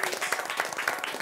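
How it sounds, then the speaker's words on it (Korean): Audience applause during a Korean variety show, a short burst of dense, steady clapping with no voices over it. "선생님께 박수 한번 주세요."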